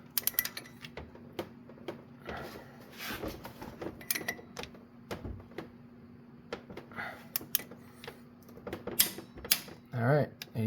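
A torque wrench tightens cylinder head bolts on a Mitsubishi Eclipse engine, giving scattered ratcheting clicks and metallic creaks in a quiet workshop, with a sharper burst near the end and someone talking between them.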